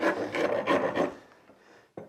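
Sandpaper rasps against wood while restoring a 1950s wooden children's downhill cart, several quick close scrubbing strokes in a row, then a pause and a final short scrape.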